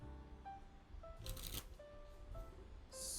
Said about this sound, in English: I'm just going to pre-shuffle these cards